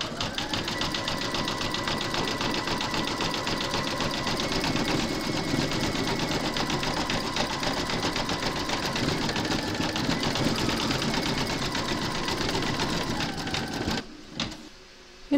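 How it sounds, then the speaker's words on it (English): An embroidery sewing machine zigzag-stitches around the raw edges of fabric in a hoop, a steady rapid needle chatter that runs loud and unbroken for about fourteen seconds, then stops abruptly. "Pop your hoop into your machine and stitch round number four, and that's going to do the zigzagging around the raw edges of your fabric."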